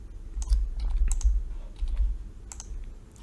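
Someone types on a computer keyboard close by, tapping out a few short bursts of quick key clicks with brief pauses between them.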